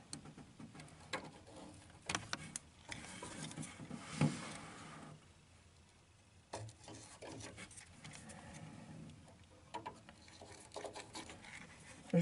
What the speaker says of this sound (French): comme j'ai la chance d'avoir un marqueur blanc, ce que je vais le faire au marqueur.